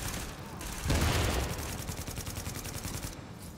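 Rapid gunfire in The Division shooter game, a dense rattling burst that swells near the first second and then keeps chattering steadily, loud and close.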